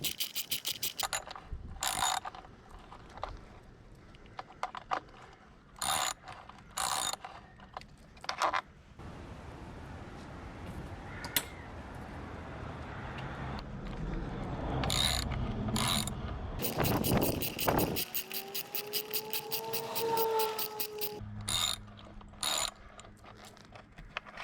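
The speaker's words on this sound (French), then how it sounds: "nous allons avoir besoin d'une clé à pipe ou à cliquer de 7/16" Socket ratchet wrench clicking as it works the air box bolts loose on a Harley-Davidson Dyna Super Glide, with repeated bursts of sharp ratcheting and mechanical handling noises, close and fairly loud, no speech.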